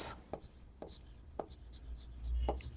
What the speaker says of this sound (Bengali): সব দেখে দেখে লিখে দিচ্ছি